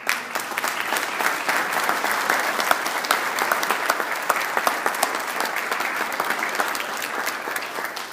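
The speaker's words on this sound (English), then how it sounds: "Would you give them a round of applause?" An audience at a Hall of Fame induction applauds former players and coaching staff, a steady, dense wash of clapping from many hands that holds evenly throughout.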